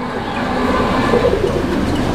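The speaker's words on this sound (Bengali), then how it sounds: "এই যে দেখেন কবুতর ডাকতেছে" Fancy pigeons in a loft coo softly in low, brief phrases, nearly buried under a steady, loud broadband rumble that runs throughout.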